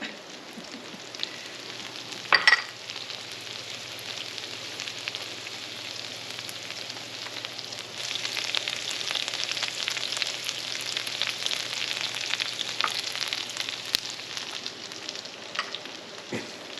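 Butter sizzles and fries in a skillet while pork sisig is cooked, a steady close crackle that swells louder midway, with a brief clatter near the start and no talk.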